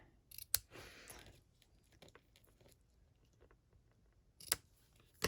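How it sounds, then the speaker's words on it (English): Scissors snip the loose ribbon ends on a handmade peony greeting card, a few crisp close cuts with quiet handling rustle and soft clicks between them. "We're going to trim those ends and then put it on our card."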